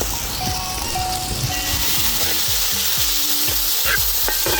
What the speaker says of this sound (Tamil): இப்போ தக்காளி போட்டுக்கிறோம்.